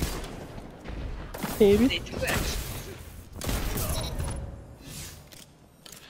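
Shotgun fire in a video game: several sharp, loud gunshot bursts spaced irregularly, with someone talking over and between them.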